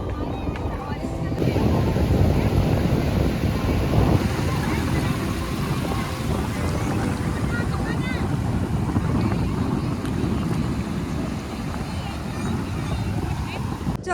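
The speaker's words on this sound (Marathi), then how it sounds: "ह्या लाटा खूप डेंजर असतात." Sea waves wash onto Palande beach at Dapoli in a continuous low roar, with heavy wind buffeting the microphone throughout.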